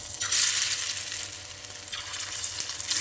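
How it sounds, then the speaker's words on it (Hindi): Chicken fries in a pan with a bright, hissing sizzle that swells, eases off and rises again over a few seconds, with no voices. "तो ये हो रहा है चिकन फ्राई"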